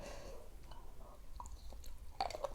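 Crunchy fresh raw squid sashimi chewed close to the mic, a few quiet crisp bites and mouth sounds in a short, soft stretch.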